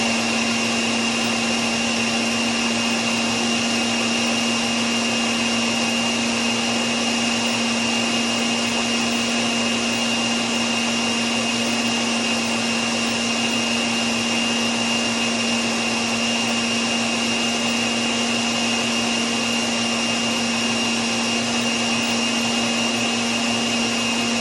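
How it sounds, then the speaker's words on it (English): Blender running steadily as it blends a smoothie of yogurt and frozen avocados, a loud continuous motor drone with a strong hum, unbroken for the whole stretch with no voices. "It's kind of hypnotic to like look at the blender as it's blending"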